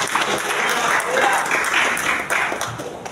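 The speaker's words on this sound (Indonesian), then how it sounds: "Kita berikan aplaus juga kepada Bapak." A congregation at a Christmas Eve service in 2024 applauds a man, a broad wash of clapping heard close and loud, with voices carrying over it.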